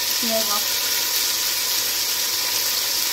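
Veal meat browning in a pot for blanquette de veau, a constant loud hiss and sizzle of frying with faint stirring clicks and a brief murmured voice near the start.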